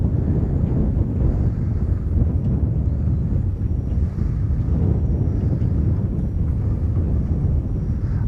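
Wind buffeting a microphone outdoors on a fishing trip, a loud, continuous low roar and rumble that fills the whole stretch without pause, with no voices.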